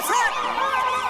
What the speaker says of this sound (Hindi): इनको सुनाई देता है पुलिस का सायरन